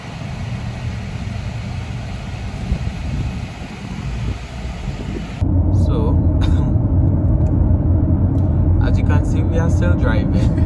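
A car drives along steadily with a low, constant road and engine rumble heard from inside, while people talk over it throughout.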